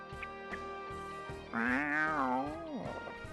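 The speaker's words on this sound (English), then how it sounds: "That sounded more like a cat." A single drawn-out, cat-like meow rises and falls in the Persona 4 video game, set over steady game music.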